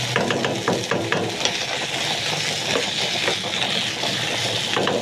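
Red, green and yellow capsicum sizzling in a hot pan while being stirred, a steady close frying hiss with scraping and light tapping throughout, no voices.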